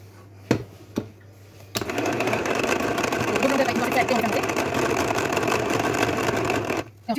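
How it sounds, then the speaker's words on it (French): A Tupperware Speedy 2 mixer whipping egg whites for meringue starts after a couple of sharp knocks, then whirs and rattles steadily at close range for about five seconds before stopping. "on va commencer par monter les blancs en neige"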